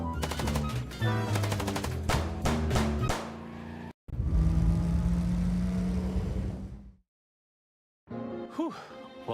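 Gunfire in the video game Chicken Police: a rapid burst of close, loud shots, then a longer roar of noise that cuts to silence before a short final flurry of sound.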